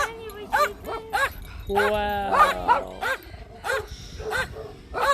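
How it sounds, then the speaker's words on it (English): Several miniature pinscher dogs at a dog rescue sanctuary bark and yap in quick, high, repeated bursts close by, with people talking over and between the barks. "Miniature pinchers are actually terriers, so they just Right. very yappy."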